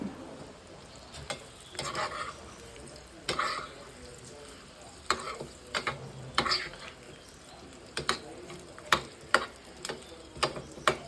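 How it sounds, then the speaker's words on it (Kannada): Chopped onion frying in ghee while being stirred, giving a soft continuous sizzle broken by scattered scraping clicks of a spoon against the pan, with no voice present. "ಒಂದು ಈರುಳ್ಳಿನ ತುಪ್ಪದಲ್ಲಿ ಚೆನ್ನಾಗಿ ಕರಿಬೇಕು"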